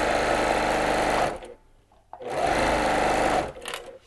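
A sewing machine stitches the brim of a Santa hat, running in two loud, dense whirring bursts separated by a short pause, close up with no talking.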